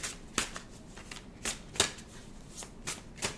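Tarot cards are shuffled in quick riffles and taps, a series of short crisp bursts at uneven intervals, close and fairly quiet.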